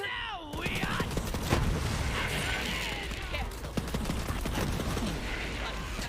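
A shotgun firing in Borderlands 3 adds repeated sharp blasts within a dense, noisy game mix, with a voice talking over the action.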